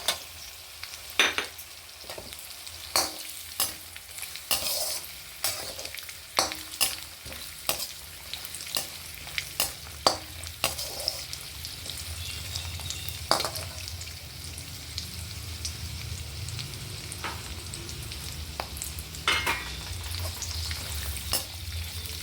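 Almonds and cashews frying in a pan for ravva laddu, a continuous close sizzle with frequent sharp clicks and scrapes of stirring, no talk.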